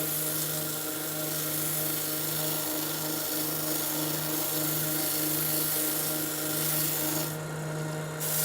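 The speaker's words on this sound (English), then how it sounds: "Work with the machine and let the sandpaper do all the work." A power sander works steadily across wood with a continuous rasping whir and a droning motor tone, held close and even for the whole stretch, briefly brightening near the end.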